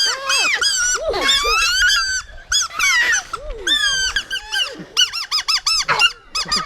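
A blade of grass is stretched and blown between the hands into a shrill squeaky whistle, heard loud and close as wavering squeals and chirps that rise and fall, ending in a quick run of short repeated squeaks.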